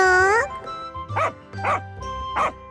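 A dog lets out three short, sharp barks at a steady pace, close and clear, after a brief sustained tonal sound at the start.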